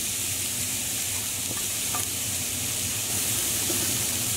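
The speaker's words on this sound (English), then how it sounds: "Now we just want to lightly cook our onions until they're nice and golden brown" Onions frying in three tablespoons of oil in a pot over medium-high heat for a Persian beef stew, a steady close sizzle with a few faint stirring clicks, no voices.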